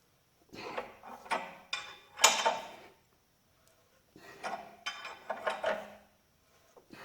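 Wrench turning a homemade liner puller on a John Deere 4020 engine, several clustered metallic clanks and ratcheting scrapes in two bursts separated by a short pause, close and fairly faint.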